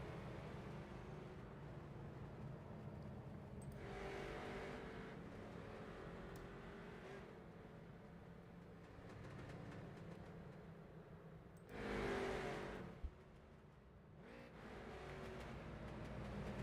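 Street stock race cars are heard at a Southern National Motorsports Park concrete-track race, with a low, steady engine rumble and a few louder passes that swell and fade as cars move by at a distance.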